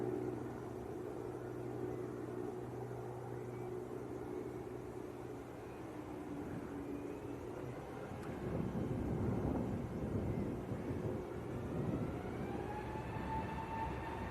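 A British Airways jet departs Manchester Airport for Heathrow, its engines a steady distant roar that swells toward the end, mixed with wind noise.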